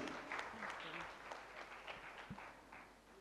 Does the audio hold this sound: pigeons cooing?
no